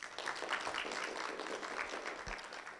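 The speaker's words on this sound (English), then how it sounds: "I think she deserves a round of applause." Quiet, distant applause from an audience at a university entrepreneurship event, a steady patter of clapping lasting a few seconds without talk.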